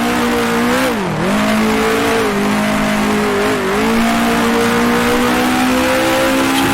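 A 1966 Formula 1 car with a Gurney-tuned engine howls loudly and continuously around the Monaco circuit in the Grand Prix Legends racing game, its pitch dipping and climbing through gear and throttle changes.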